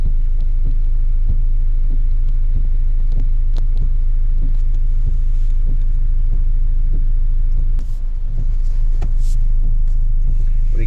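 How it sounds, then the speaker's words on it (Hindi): A Mahindra Scorpio N crawls along a muddy, rain-soaked off-road track, its engine a steady low rumble and throb that holds throughout, with faint knocks and clunks of the suspension over uneven ground. "ये देखिए गाड़ी किस तरह से सरक रही है।"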